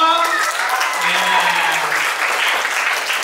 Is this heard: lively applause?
yes